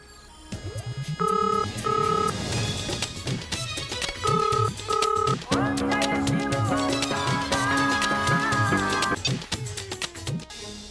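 A repeating electronic ringtone melody plays loudly in short bursts over background music, cycling several times.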